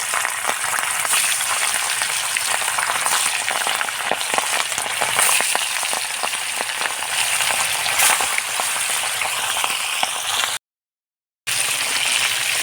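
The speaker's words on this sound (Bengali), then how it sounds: "এবার মাছগুলোকে ভেজে নেব" Fish fry in hot salted oil, a loud, dense, continuous sizzle with sharp crackling pops, cut by a brief silent gap near the end; no one speaks.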